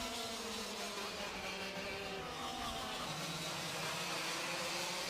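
Junior racing cars pass by during a race, a steady faint drone of several engines from a distance at the circuit, their pitch shifting slightly as they go through.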